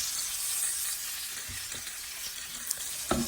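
Chicken pieces browning in a frying pan give off a bright, continuous hiss of sizzling oil, close and steady, with a few soft clanks of utensils near the end and no talking.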